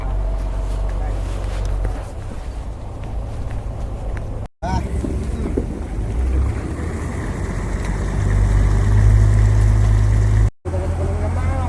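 Squid-jigging fishing boat heading out to sea off Kuala Besut, Terengganu, its engine a loud steady low drone mixed with wind buffeting the microphone and passing waves, with brief dropouts.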